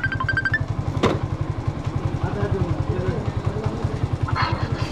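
A motorcycle engine idles at the roadside after the bike is pulled over, its steady low thumping pulse running close and loud throughout, with a brief clatter near the one-second mark and faint background noise.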